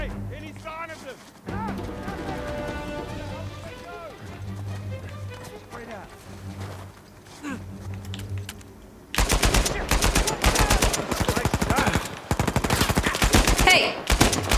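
Rapid, dense gunfire in the video game Uncharted 4 erupts loudly about two-thirds of the way in and continues in sustained bursts to the end, after a stretch of music and quieter game sounds.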